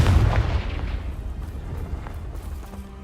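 A Confringo fire spell blast in Hogwarts Legacy, one loud low boom up front that rolls off into a fading rumbling tail.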